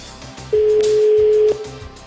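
A single steady electronic telephone ring tone sounds for about one second, loud and clear, over faint background noise.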